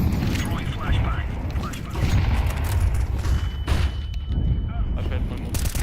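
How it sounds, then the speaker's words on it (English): A grenade and a flashbang go off in Counter-Strike 2 during a competitive match. Dull thuds and crackling bursts sit inside a dense, constant wash of gunfire and game noise, with voices mixed in. "Incendiary out. Grenade. Throwing flashbang."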